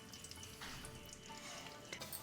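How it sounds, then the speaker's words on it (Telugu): Bombay semolina roasting in hot ghee in a pan for rava laddu, heard as a steady soft sizzle with light stirring and no talk. "నెయ్యి వేసిన తర్వాత ఇందులో బొంబాయి రవ్వ వేసుకోవాలి"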